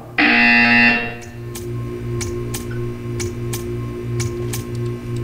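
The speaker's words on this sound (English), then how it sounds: "You will hear a buzzer." Harsh electronic buzzer in the video game Portal 2, one loud sustained blare lasting about a second, followed by a steady humming room tone with regular ticking clicks.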